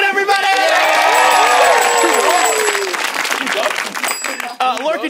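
A studio audience at a comedy show applauds and cheers loudly, with clapping and whoops filling the room at full strength before gradually thinning out toward the end.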